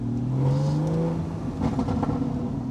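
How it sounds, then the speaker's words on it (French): Porsche Boxster GTS exhaust burbling and revving near, with a rising engine tone and a few sharp pops and crackles scattered through the low drone. "T'as vu, ça pétarade un peu."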